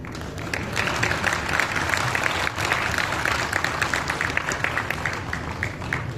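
Dense, sustained audience applause fills a stand-up comedy show, many hands clapping at once at a loud, steady level without a break.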